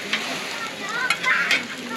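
Hotteok fry in hot oil on a street-food griddle with a steady close sizzle, broken by a few light scraping taps of a utensil.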